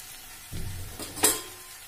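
Fried potatoes stirred in a pan as spices go in, a soft background sizzle with a stirring push midway and a brighter utensil scrape near the end, no talking.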